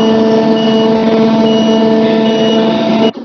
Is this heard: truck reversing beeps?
yes